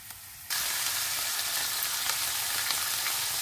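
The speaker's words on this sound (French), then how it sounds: "Mettre de l'ail dans une poêle avec un peu de l'huile d'olive." Garlic sautéing in olive oil in a frying pan, a steady, dense sizzle that switches on abruptly after a brief quiet moment and holds at an even level throughout.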